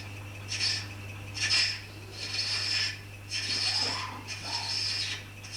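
A hand tap cuts a short thread in metal with a circular turning motion, making soft rasping, ratcheting scrapes in several uneven bursts over a steady low hum.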